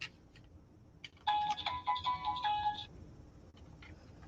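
A telephone rings indoors with a bright electronic ringtone, one burst of about a second and a half rising out of a quiet room, with faint clicks before and after.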